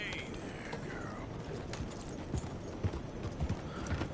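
Steady clip-clop of horse hooves in Red Dead Redemption 2 over a constant background rumble, with a few louder thuds near the end.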